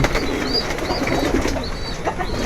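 Stock breeder pigeons in a dim loft give soft, low, repeated cooing close by, over a constant murmur of background noise.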